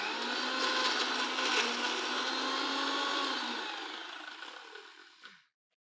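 A mixer grinder whirs loudly as it grinds coconut and fenugreek leaves into a paste for a yogurt chutney, a steady high whine that winds down and stops near the end.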